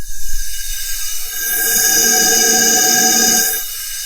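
Loud, steady hiss of compressed air escaping from an engine cylinder during a leak-down test, swelling after a moment and holding with a faint whistling tone before cutting off.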